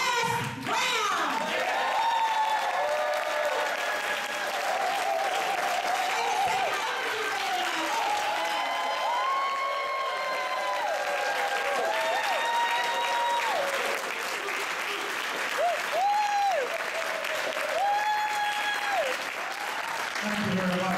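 Audience applause for motivational speaker Les Brown at a live evening event, sustained clapping from a large crowd, with cheers and a speaking voice rising over the ovation throughout.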